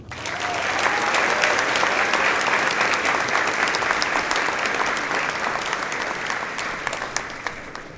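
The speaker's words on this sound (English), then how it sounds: "we'd like to get a round of applause for Mr. Chris Horton." A banquet crowd at a high school football awards dinner claps for keynote speaker Chris Horton. Sustained, even applause from many people swells quickly and stays strong, with a few sharper individual claps standing out as it begins to fade.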